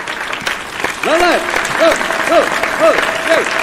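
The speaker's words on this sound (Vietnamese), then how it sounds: "quý vị cùng tôi vỗ tay để cho tôi có thể hát một cái bài thật là sống động được không ạ? Bắt đầu vỗ tay nha." A crowd claps along in steady rhythm before a Vietnamese comedy stage song, with broadband applause texture under a singer's voice that rises and falls in sustained sung notes.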